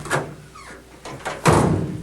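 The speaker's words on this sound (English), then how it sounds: "The latch mechanism has been redesigned to be more door-like" A 1987 Ford F150 tailgate latch is worked, giving a short mechanical clunk early on and then a louder, sustained rattling thud of the tailgate mechanism, close and with no talk.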